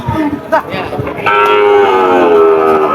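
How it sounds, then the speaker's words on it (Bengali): A medium-sized improved-breed bull moos loudly in a long, drawn-out call at a cattle market, preceded by brief murmuring voices and background noise nearby. "দর্শক বেশ উন্নত জাতের একটা গরু"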